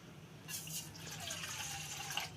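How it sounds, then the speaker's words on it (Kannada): Water is poured from a tap or vessel into a pot on a stove for making tea, a soft, faint trickling splash lasting about two seconds. "ಸ್ಟವ್ ಆನ್ ಮಾಡಿದರೆ ಒಂದು ಸ್ವಲ್ಪ ನೀರು ಹಾಕ್ಕೊತೀನಿ."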